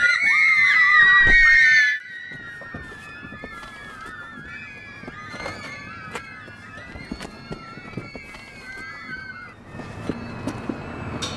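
In a film scene, people scream loudly for about two seconds at the start. A quieter stretch of shuffling and scattered sharp sounds follows, with a little voice activity underneath.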